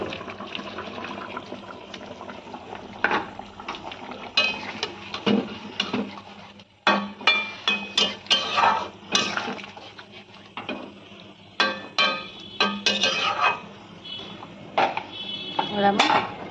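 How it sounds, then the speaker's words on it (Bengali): Fried eggplant and fish go into a boiling Bengali curry with potatoes, bringing close clattering of a spoon against the pot, bubbling liquid and repeated stirring scrapes in uneven bursts, with no voice. "এবার আমি ভাজা বেগুনটা মাছটা দিয়ে দেবো।"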